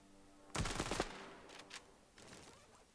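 A quick AK rifle burst in the Standoff 2 video game, a loud rattling volley of several rounds followed by two shorter, fainter bursts, with no talk.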